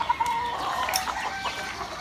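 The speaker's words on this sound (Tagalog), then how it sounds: "So, ito yung mga manok." Chickens at a grandmother's house cluck near and far in short irregular bursts, with a rooster-like call rising among the clucks over a quiet outdoor background.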